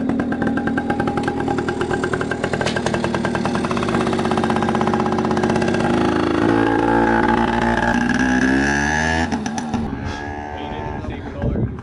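Two-stroke dirt bike engine riding past on a 4th of July outing, a loud buzzing, rising and falling rev that stays close and continuous, with people talking over it.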